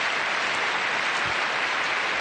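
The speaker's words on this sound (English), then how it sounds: "You could hear from the crowd reaction" A tennis crowd at the 2019 Stuttgart semifinal breaks into steady, broad applause, a dense wash of clapping filling the arena for a couple of seconds without any speech.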